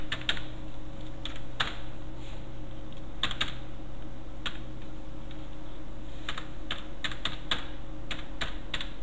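Steady, close computer-keyboard typing taps out an address form in clustered runs of keystrokes over a constant electrical hum, with no talk.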